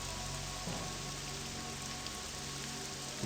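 Light rain falls steadily in the video game Morrowind, a soft, even hiss of drops with faint game ambience beneath it and no talking.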